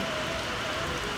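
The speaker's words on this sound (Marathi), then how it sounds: "बाहेर मस्त पावसाचं वातावरण" Steady rain falls outside during a home lunch of fried fish, curry, millet bread and rice, a continuous close hiss without any voices.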